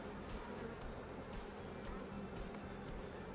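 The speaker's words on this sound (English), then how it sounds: "so on top of having a hive full of bees" A full hive of honeybees gives off a low, faint, continuous buzzing drone with no voices over it.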